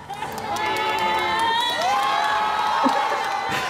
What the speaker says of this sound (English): There's people cheering.